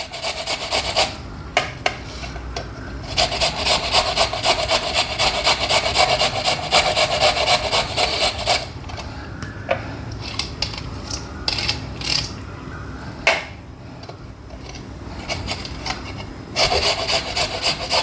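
A single large carrot is rubbed against a grater on all sides for a carrot koshimbir salad, giving a steady rasping scrape that runs in long continuous strokes with brief pauses, close and fairly loud, with no talking.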